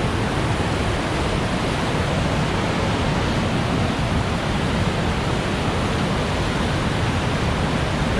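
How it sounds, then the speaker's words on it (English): Waterfall at the natural bridge in Yoho, a dense, steady roar of rushing water that stays loud and unbroken throughout, with no voices over it. "So there you have the waterfall and natural bridge."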